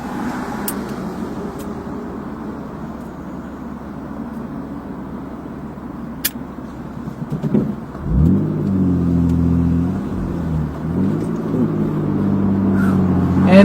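A car drives through a rain-wet 7-Eleven parking lot, its steady low engine rumble building into a louder, nearer revving pass in the final seconds, with no one speaking.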